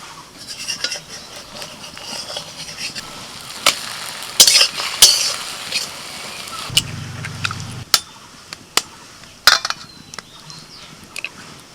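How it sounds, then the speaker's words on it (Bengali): Spread-out egg cutlet mixture frying in a pan with a steady sizzle, punctuated by sharp clinks and scrapes of a utensil against the pan, close and fairly loud with no talking. "ডিমটাকে এরকম চারিয়ে একটু বড় করে নিয়ে ভাজতে হবে"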